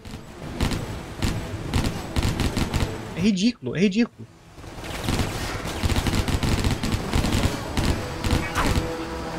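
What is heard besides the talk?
gunfire in Stranglehold video game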